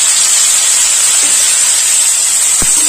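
Cut giant taro sizzles in hot spiced oil in a pan, producing a loud, steady hissing spray with a couple of faint knocks near the end.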